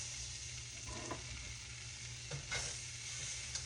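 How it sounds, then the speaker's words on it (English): Collard greens and onions sautéing in a pan, a soft, steady sizzle with faint stirring scrapes, quiet and close. "let's get our collards and our onions sauteed together"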